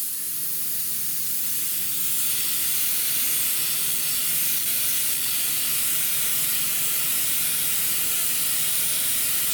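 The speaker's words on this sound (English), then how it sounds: "I'm just going to see what she's like at just straight up spraying" A steady, continuous hiss of an airbrush spraying paint, holding at an even level without pause.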